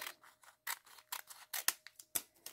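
Scissors snipping through paper while cutting out part of a handmade see-through window envelope, a series of quick close crisp cuts in an uneven rhythm with short quiet pauses between.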